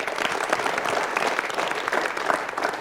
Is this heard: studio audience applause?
yes